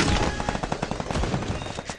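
Rapid bursts of automatic gunfire from the Free Fire video game, dense and continuous with overlapping shots at a loud, steady level throughout.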